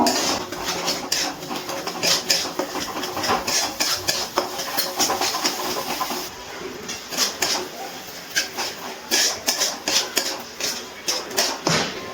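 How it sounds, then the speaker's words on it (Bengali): Spices mixed with a ground cashew and poppy seed paste are stirred and fried in a pan, with repeated spoon scrapes and metallic clinks over a steady sizzle; no talking. "সব কিছু মিশিয়ে আবারও একটু কষিয়ে নেব।"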